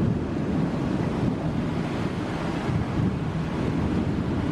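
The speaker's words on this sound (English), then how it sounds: "Okay, so stormy in São Paulo. I haven't had this on the vlog yet, so this is what happens when it rains." Stormy rain and rushing runoff water pouring downhill through a hillside neighbourhood in São Paulo, a steady, loud, dense wash of noise with wind buffeting the microphone throughout.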